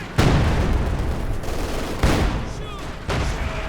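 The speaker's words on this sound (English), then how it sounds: "A rather nice counter barrage. Very accurate barrage, by the way." Heavy artillery counter-barrage in the real-time strategy game Company of Heroes 2, with loud booming impacts landing about once a second over a rumbling battlefield and faint voice in the background.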